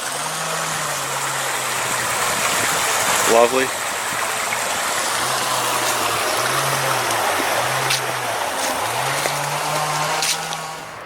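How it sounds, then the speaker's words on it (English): Steady broadband rush of flowing water from a small creek running through a culvert beside a railway, continuous and fairly close, with a man's brief remark and a low engine-like hum beneath. "Here's a nice little creek with a culvert crossing."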